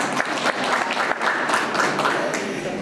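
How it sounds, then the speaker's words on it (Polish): Applause from a crowd at a palace spa event held for Women's Day in Radzyń Podlaski, a steady wash of many hands clapping that fills the whole short stretch, with faint voices mixed in. "A gdzie Panowie i gdzie euforia i aplauz?"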